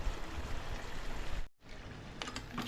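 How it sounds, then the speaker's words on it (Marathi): A little water is poured into a pan holding a Malvani masala spice mix, a steady close rushing trickle that cuts off briefly midway, then resumes more softly with a few faint clinks. "याच्यात थोडंसं पाणी घालायचं आहे"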